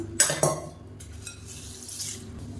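Moong dal, urad dal and fenugreek seeds being washed in water in a bowl: a couple of sharp clinks followed by soft sloshing and swirling water, with no talking.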